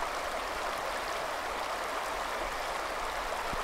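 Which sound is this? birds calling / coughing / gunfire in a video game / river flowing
river flowing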